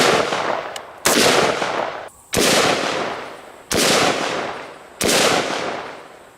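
A Windham Weaponry AR-15 in 5.56/223, loaded with Norma Tactical 223 full metal jacket rounds, fires five loud, close, sharp shots at a safe, spaced about a second or more apart, each followed by a decaying echo.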